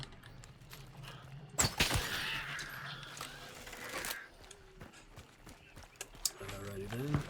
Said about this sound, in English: I thought I heard a horse or something.